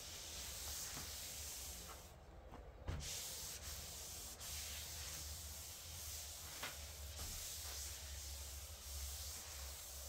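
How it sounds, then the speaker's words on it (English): Steady, close rasping hiss of an 800-grit sander working cured epoxy, running continuously with a brief pause and a few small knocks, no talking. "Sanding, wiping."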